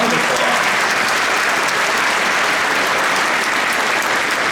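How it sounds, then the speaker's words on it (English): Concert audience at a TubaChristmas symphony event giving a sustained round of applause, a dense, steady wash of many hands clapping, loud and unbroken throughout. "Yeah, round of applause."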